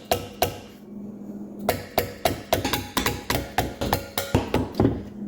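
A wooden dowel taps on an engine cylinder head during head gasket work on a 2004 Acura TL, giving a run of sharp, close knocks that start sparse and then come in a quick, fairly regular rhythm.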